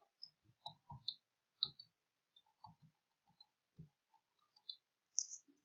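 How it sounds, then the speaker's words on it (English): One-handed typing on a computer keyboard, with sparse, irregular soft key clicks spaced apart in a very quiet room, no talking. "I'm typing with one hand"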